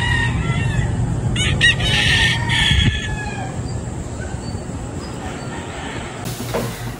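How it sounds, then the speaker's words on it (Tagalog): A rooster crows in the quiet countryside, one clear, loud call that rises and trails off, followed by softer clucking and faint background ambience. "Wala kang maririnig kundi tarawak po ng mga manok."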